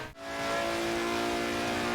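A Mercedes AMG CLK GTR engine in a racing video game holds a steady, loud, high-pitched whine at sustained revs, with no talk over it.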